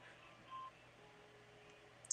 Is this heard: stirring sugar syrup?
no